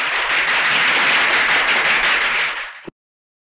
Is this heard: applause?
yes